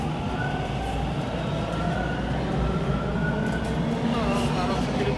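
A westbound Toronto Line 1 subway train runs past in the Bloor-Yorkville area, its steady, loud rumble and rail noise filling the scene from start to finish with no clear lull.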